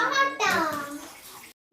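Water is poured into a pot of chopped vegetables while making a roadside-style green pea chaat at home. It makes a brief splashing pour that sits under a child's chatter and stops abruptly before a short pause.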